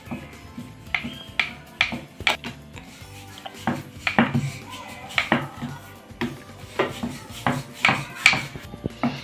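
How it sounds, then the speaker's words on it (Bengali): Dough being rolled out thin with a rolling pin: repeated close knocks and rubbing scrapes of wood against the board in an uneven back-and-forth rhythm, loud and nearby with no talk. "এবার এটাকে আমি বেলে নেব।"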